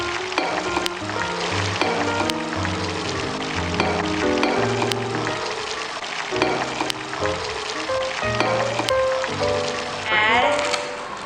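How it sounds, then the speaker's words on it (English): Egg poured into an oiled pan for an omelette, fry and sizzle crackling steadily under children's voices and scattered kitchen clatter, with a brighter burst of sizzling near the end. "Put some oil first and then pour the egg in the pan"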